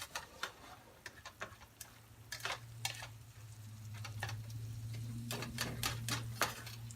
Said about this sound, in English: Now I'm just going to stir this until the butter melts.